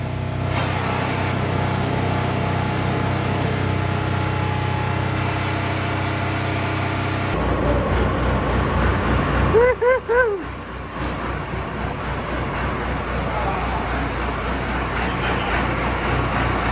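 A Can-Am off-road vehicle engine held at a steady loud idle, then revving up in a few rising surges before settling back, with people talking nearby.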